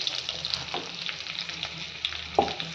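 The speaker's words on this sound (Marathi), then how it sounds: "आणि परत एकदा व्यवस्थित मिक्स करूयात" Stuffed brinjal fries in a pan while the remaining masala is mixed in, giving a steady close sizzle with occasional sharp scrapes and clinks of a spoon against the pan.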